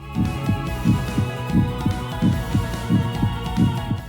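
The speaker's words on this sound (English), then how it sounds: "the sound of my heart pounding" A pounding heartbeat in the horror game Undying Legend, a regular double-thump pulse repeating about every 0.7 seconds over a low background hum, fairly close and moderately loud.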